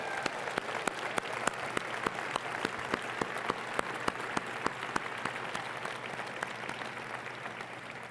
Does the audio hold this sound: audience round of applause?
yes